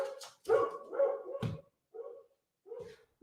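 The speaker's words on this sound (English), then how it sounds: "Got my dog in the studio," A dog barks several times indoors in a studio, short sharp yaps in uneven bursts separated by brief pauses, fairly close and moderately loud with no talking over it.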